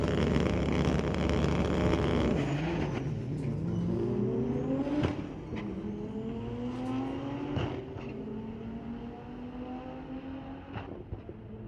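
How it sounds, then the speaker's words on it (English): Toyota Supra launching down a drag strip at a Friday night street-legal drag race at Mission Raceway Park, a loud engine roaring up through several rising gear pulls with sharp shift breaks, heard from trackside. "Another very quick Toyota Supra coming your way"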